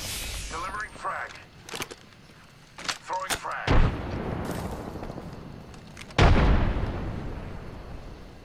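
A frag grenade explodes in Apex Legends, one of two deep booming blasts that each trail into a long rumbling decay, set among scattered gunshots and game effects, with people talking over the action.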